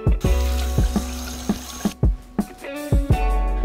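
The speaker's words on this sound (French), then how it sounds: "Voilà, c'est tout et je vais déjà rincer." Tap water runs into a sink while makeup remover is rinsed off, a loud close splashing flow broken by repeated sharp splashes as the hands scoop and splash the water.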